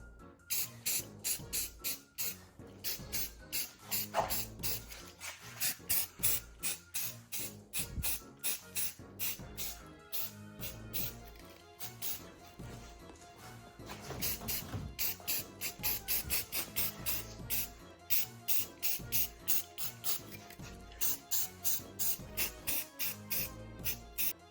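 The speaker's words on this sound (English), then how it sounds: "now I just zapped it with this satin heirloom white paint, just to give it another layer" Satin heirloom white spray paint hisses onto a mummy head prop in a long series of short, rhythmic bursts, close and fairly soft, with pauses between the sprays.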